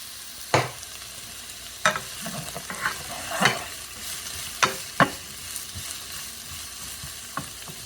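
Vegetables with garlic and a pinch of salt sautéing in a pan, a soft steady sizzle punctuated by sharp, irregular knocks and scrapes of a utensil stirring against the pan, no one speaking.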